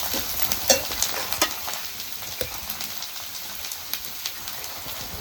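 Garlic and coconut roast over medium heat in a pan, a steady crackling sizzle with repeated scraping stirs and small pops, close and fairly loud throughout.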